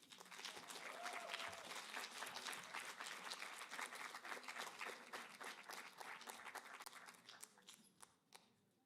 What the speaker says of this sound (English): Clap for Carrie.